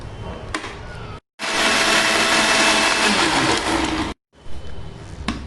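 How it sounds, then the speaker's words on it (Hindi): A mixer grinder blends a kiwi smoothie with honey and ice cubes in one loud, steady roaring burst of about three seconds, with quieter handling sounds before and after. "और अब हम इसे ग्राइंड कर लेंगे।"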